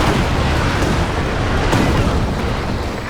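An artillery barrage in the video game Company of Heroes 2, a dense, continuous roar of explosions and rumbling booms that stays loud and steady throughout with no clear speech.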